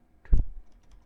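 A short burst of computer keyboard typing while entering a line of code, a quick cluster of close clicks lasting about a third of a second before trailing off into quiet.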